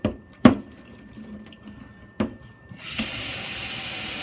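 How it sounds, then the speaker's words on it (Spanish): Water drains freely through a freshly unclogged kitchen sink, with a few sharp knocks and drips before a steady rushing flow starts and carries on to the end. "Miren cómo el agua ya está circulando"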